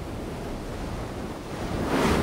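Ocean waves surge into a basalt blowhole about 22 kilometers outside Papeete, Tahiti, giving a continuous broad rushing roar that builds louder near the end, with no voices.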